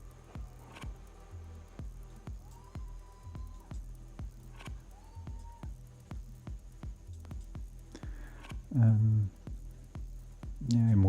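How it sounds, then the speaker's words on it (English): White-noise bursts softened by a one-pole low-pass filter in a procedural percussion synth repeat as a rapid, steady train of short, muted hits, with a brief voice near the end. "smooth this noise a bit using a 1-pole low-pass filter"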